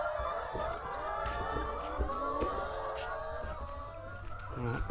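Chickens clucking and cackling on a farm, with a rooster crowing, a steady chorus of fowl calls close by and no talk.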